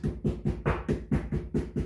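Steady rhythmic thuds, about eight in under two seconds, as a rolling pin pounds meat for schnitzel repeatedly on a soft surface nearby.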